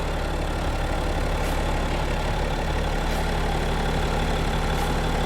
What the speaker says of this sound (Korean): 엔진 소리 일정하네요